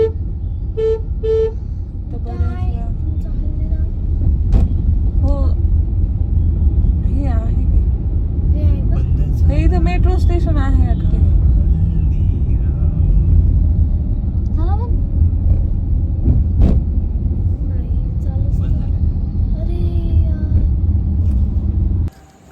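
Cars speed past on a road beside a central jail, a loud, steady rumble of traffic with a few short horn toots early on, while someone talks over the noise throughout.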